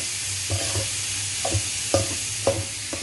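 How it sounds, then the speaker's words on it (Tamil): Rice for nasi goreng fried rice being stirred with dark soy sauce in a hot pan, with a low sizzle under about five distinct spatula scrapes and knocks in an uneven rhythm. It is close, and no one talks. "இப்போ இது எல்லாத்தையும் நல்லா மிக்ஸ் பண்ணிக்கலாம்."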